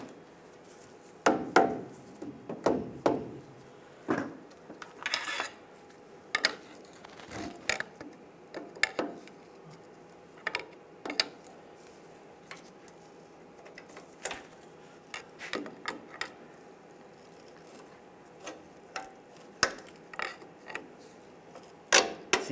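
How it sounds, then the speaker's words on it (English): Fitting new bolts with washers onto a leveling kit on a 2007-2013 Chevy Silverado 1500: irregular metallic clicks, taps and creaks of hardware being handled and slid into position, scattered through the stretch with no talk. "Take the new bolts, put a washer on, slide that in position."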